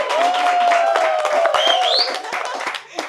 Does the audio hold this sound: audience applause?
yes